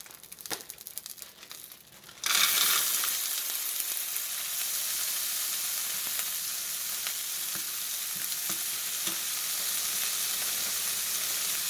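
Frozen vegetables hit a hot pan for vegetable fried rice and break into a loud, steady sizzle that holds at full strength, following a few quiet bumps and handling noises.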